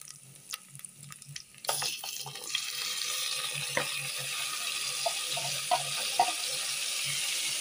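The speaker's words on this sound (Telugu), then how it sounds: "ఇప్పుడు టమాటా ముక్కలు కూడా వేసేద్దాం." Tomato pieces tip into a hot frying pan of curry leaves for biryani, sizzling steadily after a sharp start, with faint clinks and stirring scrapes over a continuous hiss.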